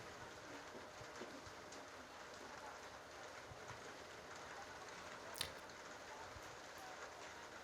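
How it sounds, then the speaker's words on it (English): Steady, faint rainfall patters evenly throughout, a soft continuous wash with one brief tick partway through and no voices. "And listen to the rain."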